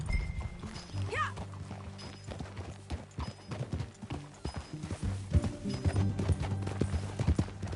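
Horse hooves clip-clop steadily in Red Dead Redemption 2 as a rider travels alongside others, the even rhythmic beats sitting under a sustained game music score with an occasional whinny.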